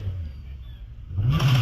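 A turbocharged Rolt F302 hillclimb race car in the 1600 to 2 litre forced induction class at a hillclimb, its engine idling low, then rising sharply into a loud rev near the end.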